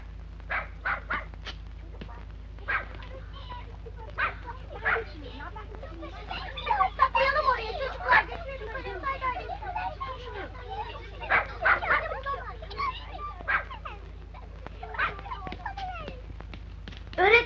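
A dog whimpers and yelps in short high whines, with occasional barks scattered through, over a steady low hum.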